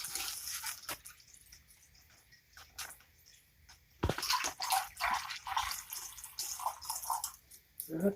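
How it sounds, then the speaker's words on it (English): Tap water fills a polyethylene plastic bag: faint drips and a quiet trickle at first, then a louder rush of running, splashing water from about the midpoint to the end. "we're going to fill this one with water."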